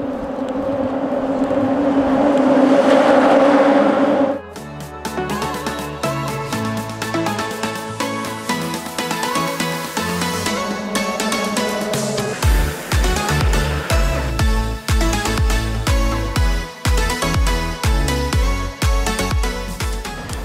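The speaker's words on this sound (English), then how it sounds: "I love the sound of the cars going over the metal grating." Cars rumble and hum over the metal bridge grating of the Roebling Suspension Bridge in Cincinnati, with a rough buzzing drone and rhythmic thumps as tires cross joints, loud and close.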